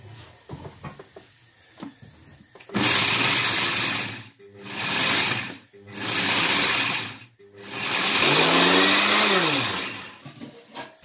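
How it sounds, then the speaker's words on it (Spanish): Corn being ground in an electric grinder for a corn and meat soup: three loud whirring bursts with short stops between them, the motor pitch dropping under load in the last run. "Vamos a moler ya nuestro maíz."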